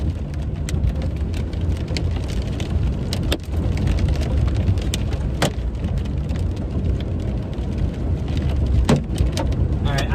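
Hard hail pelting down during a Montana supercell storm, a dense continuous roar of impacts with sharp louder strikes now and then, steady and close throughout.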